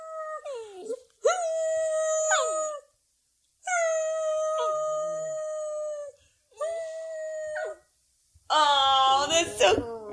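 A dog howls in several drawn-out bouts separated by short silences, heard over a phone on speaker. The howls are close and fairly loud, and the last bout rises into shrill yips and whines.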